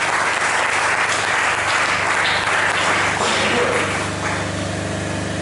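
A church congregation at a Sunday service applauds loudly and continuously, a dense wash of clapping close up with crowd noise mixed in, easing off slightly toward the end.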